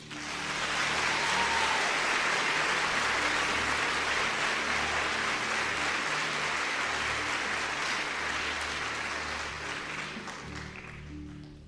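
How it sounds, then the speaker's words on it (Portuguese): A crowd claps continuously for several seconds, a dense even wash of applause that tapers slightly near the end. "Aplauda o seu anjo."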